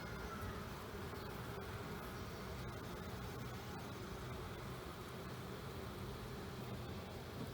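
Honey bees buzz steadily around an open Apimaye hive, a dense continuous drone close by with occasional faint clicks and handling noises.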